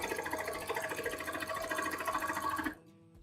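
A sewing machine stitches fabric with a fast, even mechanical whirr of rapid needle strokes, close and steady, before stopping abruptly near the end.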